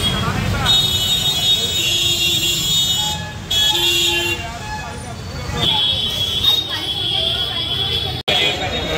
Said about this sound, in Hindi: मंदिर की वजह से काफी ट्रैफिक है।